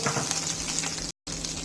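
Cumin seeds frying in hot oil for a Kerala-style seeraga chicken, a steady close crackling sizzle that runs without pause, with a brief dead-silent cut before it resumes.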